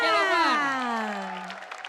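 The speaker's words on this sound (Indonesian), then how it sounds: "Kita kasih tepuk tangan dulu untuk Oki Lukman" A studio audience on an Indonesian TV comedy show bursts into applause that starts loud and gradually fades out.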